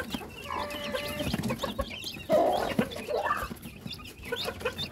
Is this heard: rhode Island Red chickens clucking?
yes